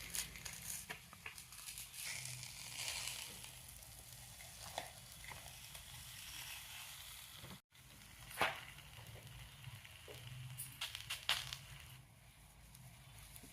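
Thalipeeth flatbread, the North Karnataka style, sizzles steadily on a hot pan, a dense crackling fry with a few louder pops and crisp ticks scattered through, heard alone without talk.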